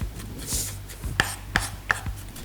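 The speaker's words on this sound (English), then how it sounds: "Season 2, Episode 2, chopping shallots." A knife chops shallots sharply on a board, four or five close, crisp taps at an irregular pace, no voices.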